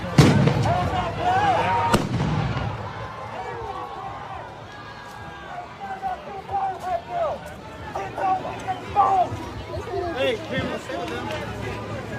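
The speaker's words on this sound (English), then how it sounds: "Somebody just threw it back, or they're throwing fireworks." Fireworks or tear gas canisters at a street protest in Brooklyn Center, Minnesota, 2021: a loud blast opens the clip and a second sharp bang follows about two seconds later, over crowd noise, shouting and people talking.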